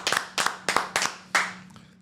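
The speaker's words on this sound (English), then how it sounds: "Can we get a clap?" Small group of people in a podcast studio clapping in five distinct bursts, each a short, close cluster of claps, the last one fading out.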